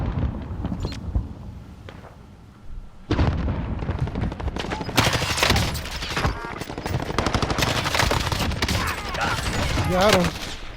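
Rapid bursts of automatic gunfire and booming shots crackle through a Warzone match, dense and loud for most of the stretch, with players talking over the fighting.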